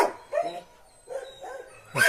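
A West Siberian Laika, a hunting dog, gives a few short, yelping barks in separate bursts, close by and fairly loud, with quiet gaps between them.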